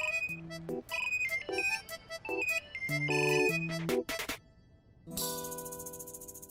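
A melodic electronic phone ringtone plays a repeating tune of bright beeping notes, clear and close, then a brief pause and a shimmering tone.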